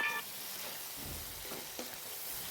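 Soaked mung dal sautés in a pan with chili powder, salt and spices, giving a soft, quiet sizzle with faint stirring scrapes and no voices.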